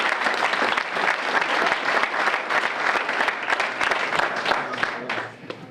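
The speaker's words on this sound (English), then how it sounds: "So give her a big round of applause." At a downtown revitalization press conference, a crowd gives the Secretary of State a sustained, steady round of applause, close and loud, tapering off at the end.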